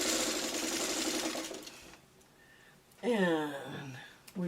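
A sewing machine stitches a seam on a Dresden quilt block, a close, fast mechanical whir for about two seconds before it stops, followed by someone talking.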